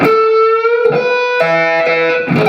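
Slow electric guitar rendition of a lick on a guitar tuned down a half step, sustained distorted notes changing pitch a few times, close and loud with no voices.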